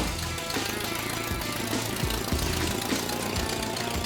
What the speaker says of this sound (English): But the engine still sounds like a bag of nails.